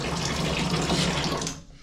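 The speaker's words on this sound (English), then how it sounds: "You turn this for the faucet." A camper faucet in Japan runs in a full, close, steady stream for a moment before it is shut off and the sound drops away.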